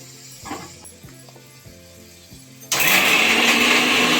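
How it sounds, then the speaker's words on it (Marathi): A kitchen mixer grinder at home switches on partway through, jumping into a loud, steady whirring roar after a few quieter clinks and hums. "मिक्सर लावून घेते"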